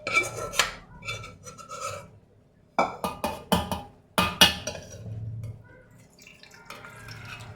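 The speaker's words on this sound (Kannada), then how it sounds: "ಕಾಲು ಗ್ಲಾಸ್ ಆಗುವಷ್ಟು ನೀರನ್ನು ಹಾಕ್ಕೊಂಡು" Water poured into a mixer jar holding cooled masala for mutton curry: short splashy pours and rattling knocks against the jar in quick bursts, close and fairly loud, then quieter trickling.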